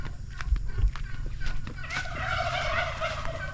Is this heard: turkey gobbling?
yes